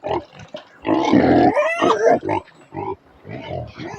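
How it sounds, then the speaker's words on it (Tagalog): Hungry pigs at a pen grunt and squeal while climbing for food, a close, loud run of overlapping oinks and grunts in uneven bursts. "Maakyat pa talaga yung baboy na yun. Maakyat pa talaga na hindi makahintay sa pagkain."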